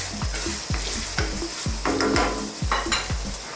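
Onions fry in a pan on medium-high heat for a lamb karahi, a constant bright sizzle broken by regular scraping stirs that come in a quick, even rhythm, close and loud with no talking.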